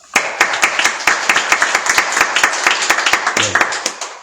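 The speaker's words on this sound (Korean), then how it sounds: "우리 지금 안 계시지만 감사의 박수 올립니다." A Korean church congregation at a Sunday worship service breaks into loud, crisp, close applause, many overlapping hand claps that keep going for several seconds before trailing off.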